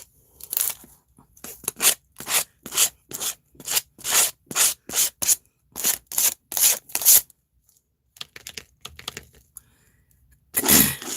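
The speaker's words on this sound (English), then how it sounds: "it's important that you use something like this to scrape the color on" Paint is scraped onto a collage card in rapid rhythmic strokes, a dry rasping scrape repeated many times close by, then a pause and one last longer scrape.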